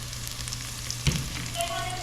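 Seasonings sautéing in a pan, a steady close sizzle with a single sharp clink of a utensil partway through.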